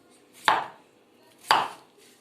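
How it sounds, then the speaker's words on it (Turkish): Knife chopping potatoes on a cutting board, two sharp, close chops about a second apart, each with a short rasping tail, with no talking. "Şimdi patateslerimizi doğruyoruz."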